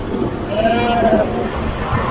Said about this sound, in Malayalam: പലതരം ആടുകളുണ്ട് കേട്ടോ,